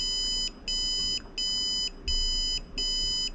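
A wireless doorbell's electronic buzzer beeps five times in an even rhythm, each a steady high-pitched tone lasting about half a second, with short gaps between.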